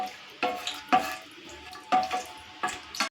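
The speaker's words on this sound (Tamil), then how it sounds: "இதில் நாம் கொஞ்சமாக வந்து முந்திரி சேர்த்துக்கலாம்" Cashews frying in ghee in a pan for banana leaf halwa, heard as soft bursts of sizzle and stirring with a few brief scraping strokes, close up and steady, with no talking.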